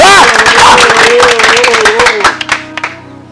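Quick, scattered hand claps ring out under a loud voice, then thin to a few isolated claps as the voice stops and the sound tails off.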